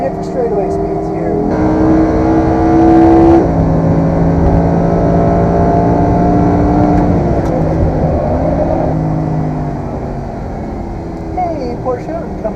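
A supercar engine pulls hard on a race track straightaway, rising through the gears with a steady loud drone and shift changes, heard from inside the cabin with someone talking over it.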